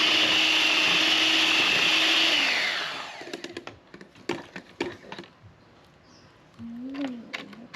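A blender or mixer whirs steadily while beating a homemade Filipino-style mango ice cream mixture, then stops around midway, leaving scattered knocks and clatter.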